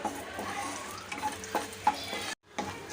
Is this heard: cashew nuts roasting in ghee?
yes